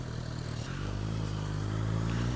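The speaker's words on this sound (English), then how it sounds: "2 motorbike cops." Motorcycles ridden by two police officers pass close by on a road, a steady loud engine drone with a low harmonic hum that rises slightly in pitch, heard from inside a drifting car with its own engine running.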